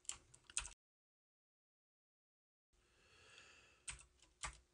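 Fingers tap quickly on a computer keyboard, close by and quiet, in two short bursts of clicky keystrokes separated by a stretch of complete silence, with sharper key presses near the end.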